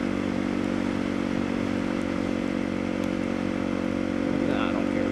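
Steady motorcycle engine drone while riding through Denver, Colorado, a constant loud hum with wind and road rumble, a voice faintly present underneath.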